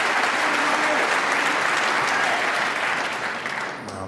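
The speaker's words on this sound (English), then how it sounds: "a terrific round of applause" Snooker crowd at the UK Championship final applauding Ronnie O'Sullivan against Shaun Murphy, a dense, steady round of clapping filling the hall that holds loud throughout and only begins to thin slightly near the end.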